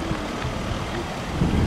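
Steady wind buffeting the microphone, a low rumbling roar that swells slightly toward the end, with no voices.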